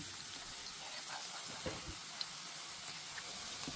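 Onion frying in a pan for a quinoa and paneer stuffed bell pepper filling makes a continuous soft sizzling hiss, with a couple of faint clinks near the middle.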